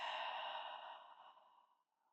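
A single long exhale during a slow yin yoga class: a soft, close, breathy sigh that starts fairly strong and tapers away to silence over about two seconds.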